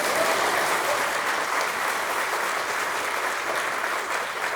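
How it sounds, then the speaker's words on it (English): Dense, continuous applause from a large audience at a writers' and illustrators' awards gala, a steady wash of clapping heard fairly close with no voices over it. "please clap for her"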